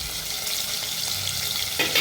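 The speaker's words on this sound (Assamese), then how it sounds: "এয়া পনীৰবোৰ ভাজি লৈছোঁ গৰম তেলত।" Cubes of homemade paneer frying in hot oil for matar paneer, a dense, steady close sizzle with a brief louder crackle near the end.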